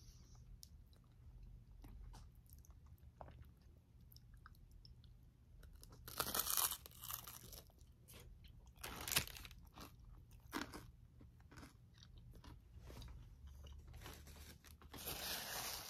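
Someone eating a Taco Bell Chicken Crispanada with sauce, quiet crunchy bites and chewing close to the mic over a low background hum, with a few louder crunches standing out.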